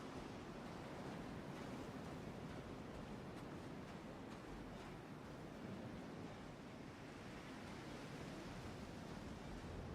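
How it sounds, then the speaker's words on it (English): Desert wind in the video game Star Citizen rushes as a steady, faint broadband hiss with gentle swells, alone and without talk. "Windy desert."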